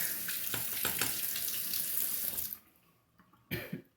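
Tap water runs steadily as a straight razor blade is rinsed, then cuts off abruptly, with a short final splash of water near the end.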